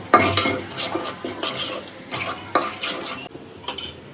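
Chicken bhuna in the making: chicken pieces being stirred through ginger-garlic spice paste in a pan, with repeated scraping strokes of a utensil against metal and a faint sizzle underneath, close and moderately loud, no talking.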